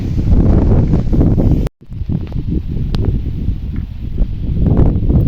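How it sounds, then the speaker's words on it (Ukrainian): Steady, loud wind roars and buffets the microphone outdoors across an open field by a vegetable garden, with a rushing rustle that briefly cuts out, then carries on gusting. "Вітер, який гуляє по полю."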